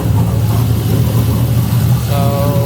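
A GM LC9 LS V8 engine swapped into a Mazda Miata idles steadily with a deep, even rumble, and a higher whine or cooling fan note joins in near the end.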